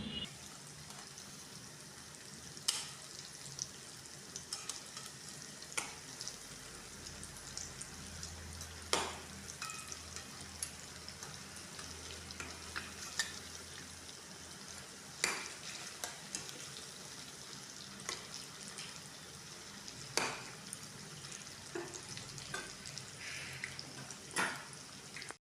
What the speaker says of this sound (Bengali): পিঠ ভাজা হয়ে গেছে, পকোড়াগুলো উল্টে ভেজে নেব।